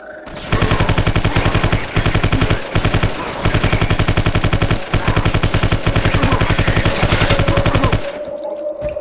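Sniper rifle gunfire in the shooter game Vivisector: Beast Within rattles out in long, loud, rapid strings of evenly spaced shots, with brief pauses between bursts before stopping.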